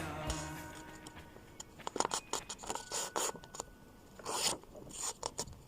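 Sheet of paper with a drawing being folded along a line for a Saint-Nicolas craft, giving soft close rustles, creases and scraping rubs in several short bursts, fairly quiet, with no talk.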